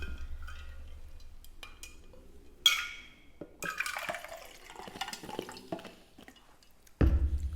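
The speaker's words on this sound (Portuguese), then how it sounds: "Deixa eu tomar água aqui" Water being drunk indoors, with small liquid sounds, a brief splash and a clink of a cup, then a louder knock near the end as the container is set down; quiet and close, with no talk.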